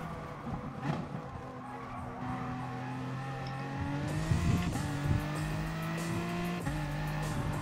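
A Ferrari race car in Gran Turismo Sport accelerating out of a corner, its engine note climbing steadily through the gears with brief shift dips, continuous and fairly close amid other cars.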